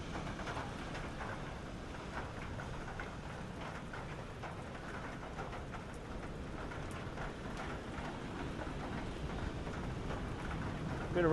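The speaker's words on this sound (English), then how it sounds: "Bit of rain starting to come down there now" Light rain falls steadily outdoors at a surf beach, a soft continuous hiss that stays even and fairly faint throughout, with no voices standing out.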